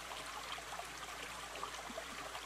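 A creek keeps flowing in the summer heat, a steady soft trickle and babble of water with no other sounds over it.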